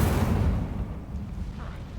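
An Incendio fire spell in Hogwarts Legacy lets out a loud, deep whooshing burst that fades into a rumbling roar over about two seconds.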